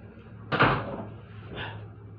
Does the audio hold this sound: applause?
no